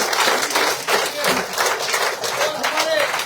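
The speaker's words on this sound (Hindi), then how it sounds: "जोरदार तालियों से" Loud applause welcoming new members at a BJP political event in Poonch, a dense burst of crowd clapping that swells and dips in waves while someone speaks over it through an amplified system.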